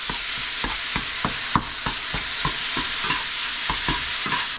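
Lean ground turkey fries with vegetables in a pan, a steady sizzle broken by repeated scraping stirs as the meat is broken up, close and fairly loud, no talking.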